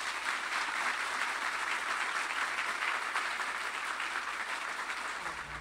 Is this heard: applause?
yes